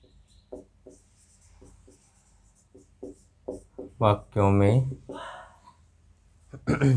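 Writing during a basic English tense lesson, with a chalk or pen making a series of short, scratchy strokes at an unhurried pace before a voice briefly cuts in and speaks.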